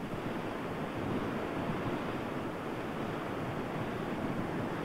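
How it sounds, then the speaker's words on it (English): Pacific Ocean waves break onto the beach at La Jolla, a continuous, even wash of surf with no pauses, moderately loud and steady throughout. "The waves that come onto the beach here in La Jolla may have come from very distant storms"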